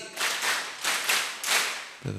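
A congregation at an Indonesian religious lecture claps in unison on instruction, giving a run of crisp, evenly spaced collective claps, close and clear, after which a voice starts to speak.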